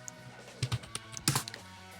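A few quiet, close keystrokes on a computer keyboard as a Linux terminal command is typed, sparse clicks in two short bursts.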